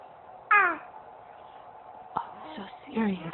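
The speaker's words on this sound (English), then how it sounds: "You think you need a fake cough for attention?" A 16-week-old kitten makes short raspy hacking bursts that pass for fake coughs, three brief loud sounds with quiet between them, heard close up indoors.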